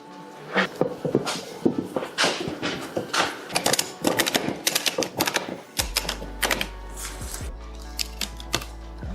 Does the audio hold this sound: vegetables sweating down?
no